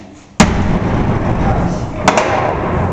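A heavy metal jail cell door slams shut with a loud, booming clang, then a second slam follows about two seconds later, echoing in a large space.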